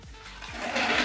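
Water runs from a tap while plastic tumbler lids and a tumbler are rinsed, a rushing splashy flow that builds louder over a second, close by and with no voices.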